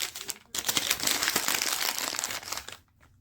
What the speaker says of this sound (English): Here I am rustling and trying to talk at the same time